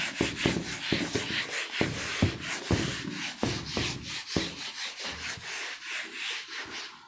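Rubbing strokes wiping a classroom board clean during a maths lesson, a steady series of brisk, repeated swipes of moderate loudness with no voices.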